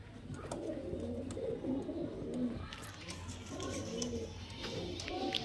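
Highflyer pigeons, Kalshira and Madrasi breeds, coo steadily in a loft, several low throaty calls overlapping and close by, with a few faint chirps mixed in.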